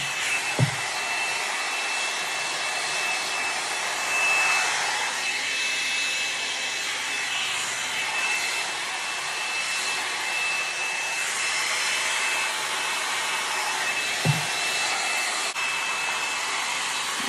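A L'ange LeVolume hot air brush blow-drying hair gives a loud, continuous close-up whoosh of airflow lasting the whole stretch, broken only by a couple of brief soft knocks, with no talking.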